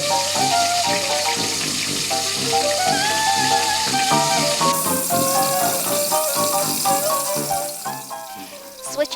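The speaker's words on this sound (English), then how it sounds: "Make sure you fry the prawns where the butterfly cut is as well." Steady, dense sizzling of butterflied prawns frying in hot oil, loud and continuous, with faint clinks of utensils and no talking.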